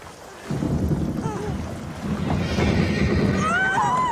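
A horse whinnies beside a carriage on an outdoor road, a rising, wavering neigh near the end over steady wind and rumbling movement, with no talk.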